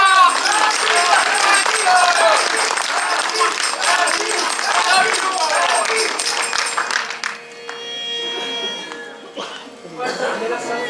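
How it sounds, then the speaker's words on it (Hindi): Audience applause at a Bhojpuri comedy stage drama, a dense, loud burst of clapping from a crowd that thins out toward the end, with a voice speaking over it. "तालियां"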